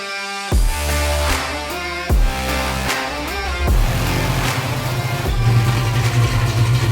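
A 1965 Ford Mustang engine on a dyno revs in several sharp bursts, then climbs into a sustained, loud power pull with rising pitch.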